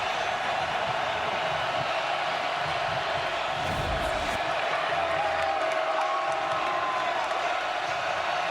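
Steady crowd roar fills a football stadium during an Ole Miss Rebels versus Oklahoma Sooners college game, a constant loud wash of voices with a brief swell near the middle and no distinct announcer.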